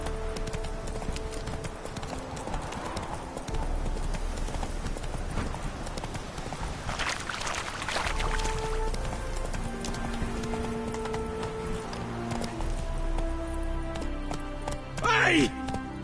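Horse hooves clip-clop in a steady galloping rhythm in The Witcher 3, under continuous game ambience, with a neigh-like cry near the end.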